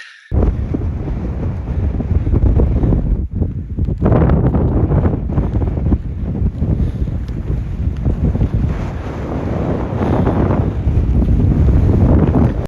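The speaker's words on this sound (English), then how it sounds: "Very windy though, I've got no idea if you can even hear me." Loud, gusty wind on a mountain summit in the Lake District buffets the microphone continuously, a dense roaring rush that swells and dips without pause.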